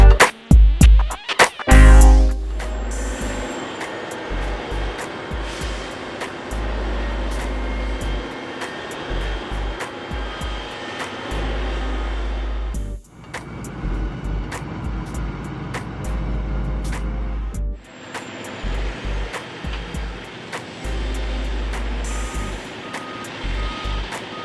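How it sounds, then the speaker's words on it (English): A heavy mining loader with hydraulics works loudly nearby, its engine roaring and rumbling while reversing beeps repeat in regular bursts, with brief pauses in between. "This loader is a powerhouse for handling heavy materials in large mining operations."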